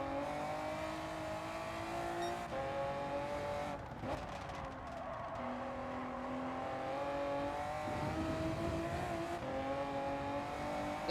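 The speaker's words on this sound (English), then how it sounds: "We are driving the Honda NSX from 2002." A 2002 Honda NSX races the Nürburgring Nordschleife in Gran Turismo 7, its engine droning loudly at high revs with shifts in pitch and brief tire squeals through corners, with no talk.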